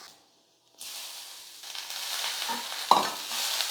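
Beetroot stir-fry with a pinch of turmeric being stirred in a pan for a Tamil home lunch: a soft scraping stir over a building sizzle, with one sharp utensil knock near the end.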